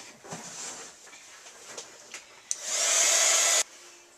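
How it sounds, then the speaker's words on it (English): Heat gun blowing on embossing powder, a loud steady rushing hiss that starts abruptly, runs about a second, then cuts off after a stretch of quieter handling noises. "I'm gonna heat it up with my heat gun."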